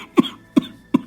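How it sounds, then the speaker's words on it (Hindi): An old man coughs three times in a row, sharp, close and evenly spaced, with short gaps of quiet between the coughs. "खांसते हुए गांव के लोगों से कहता है"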